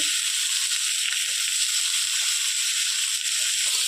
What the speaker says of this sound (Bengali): চালটা সুন্দর করে নেড়ে চেড়ে ভেজে নিই